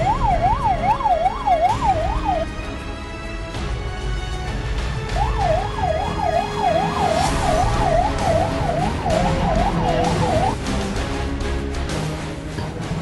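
An ambulance siren wails through traffic, a rapid rising-and-falling yelp in two bursts with a brief gap between, set over a steady hum of vehicles and moderately near.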